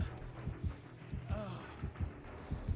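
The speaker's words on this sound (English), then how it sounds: "I still hear my heartbeat really loud." The terror-radius heartbeat in Dead by Daylight thumps in a steady, deep, regular double pulse throughout, loud and close, with a brief faint tonal sound midway.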